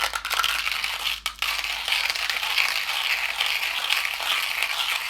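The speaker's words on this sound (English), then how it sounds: "I'm going to go ahead and grind up the beans." A hand coffee grinder crushing whole beans from a travel coffee kit, giving a continuous close-up ratcheting, gritty rattle that keeps going steadily throughout.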